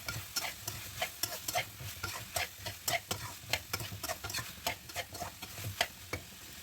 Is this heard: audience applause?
no